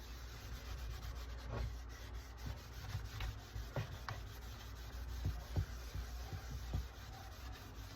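A cloth rubs Minwax wax finish onto driftwood-finished wood in quiet, close, soft swishing strokes with faint scratchy squeaks, an irregular back-and-forth rhythm and no talking.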